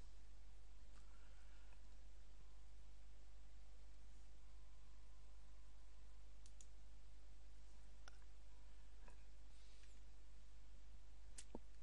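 A few sharp computer mouse clicks, spaced apart, in XenoDream fractal software, heard faintly over a steady low electrical hum and hiss with no talking.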